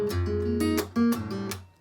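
A guitar plays a short phrase from section 2 of a song, picked bass notes and chord tones ringing with a couple of sharp percussive attacks, close and clear.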